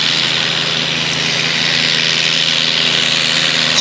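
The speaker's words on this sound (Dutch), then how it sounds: "Vermogen van deze trekker ligt rond de 700 pk." A diesel pulling tractor with a Holset HX60 turbo, rated around 700 hp, runs loud and steady at a constant drone with no voices over it.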